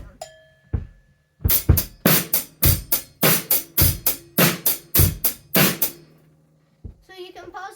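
A drum kit plays a steady rock beat, sharp cymbal and snare strikes alternating with bass drum pedal thumps on the first and third beats, close and loud, with a brief pause before and a short spoken bit at the end.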